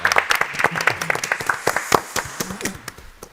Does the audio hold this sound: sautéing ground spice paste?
no